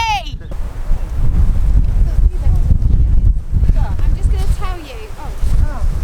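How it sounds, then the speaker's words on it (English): Strong wind buffets the microphone in a steady low roar, with people talking over it throughout. "What's the wind doing, Em? It's very windy!"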